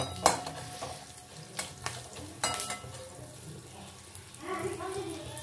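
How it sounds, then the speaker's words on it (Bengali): Crushed garlic frying with cumin seeds in a hot pan, with a soft sizzle under sharp metallic clinks and scrapes of stirring, close by. "থেতো করা রসুনটা আমি এর মধ্যে দিয়ে দিচ্ছি"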